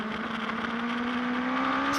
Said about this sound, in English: Let's have a look as the revs pick up there.